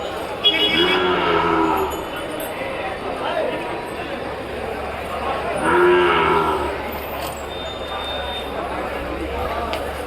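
Cattle moo a couple of times at moderate distance amid a busy outdoor crowd murmur and general bustle at a Thursday cattle market in Krosuru.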